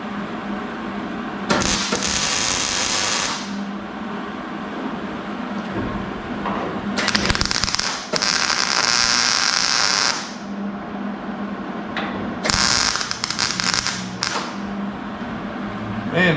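Welding with a welder, bursts of harsh crackling hiss lasting a couple of seconds each, switching on and off several times at close range between quieter pauses with faint background noise.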